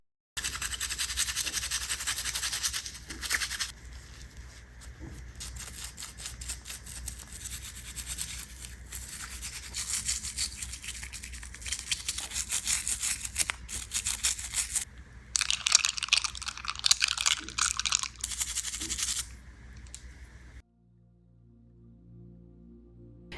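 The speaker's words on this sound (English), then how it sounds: "this time I'm going to use a soft bristle toothbrush to give every single piece a good scrub" A soft-bristle toothbrush scrubs DJ gear knobs and sliders in soapy water with brisk, close bristly strokes that come in uneven bursts for about twenty seconds, then stop.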